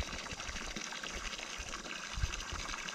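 Water is filled for a sheep outdoors on a cool evening, a steady rushing pour that runs unbroken and close, with no voices.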